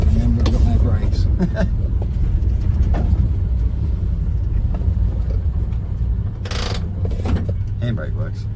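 A VJ Dodge ute's engine idles in a steady, close low rumble throughout, with a few mechanical clicks and rattles over it.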